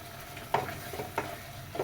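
Tomato sour curry with small fish beginning to cook in a pan, giving a soft steady sizzle with a few brief clinks of stirring, fairly faint and with no talking.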